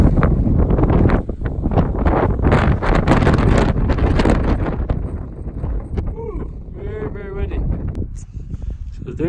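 Strong wind buffets the microphone on the exposed summit of Pyramid Peak in the Desolation Wilderness, a loud, continuous roaring rush with gusty surges and a voice partly buried beneath it.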